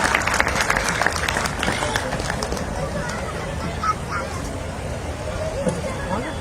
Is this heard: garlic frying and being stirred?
no